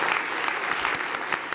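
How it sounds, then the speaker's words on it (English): A summit audience applauds its panelists with dense, steady clapping, a few sharper individual claps standing out near the end. "let's hear a round of applause for our fabulous panelists."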